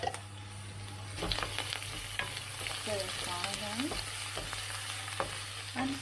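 Onion and ginger frying in a few spoons of cooking oil for pineapple and prawn fried rice, a constant close sizzle broken by repeated spatula scrapes and clinks, with a low hum underneath and no talking.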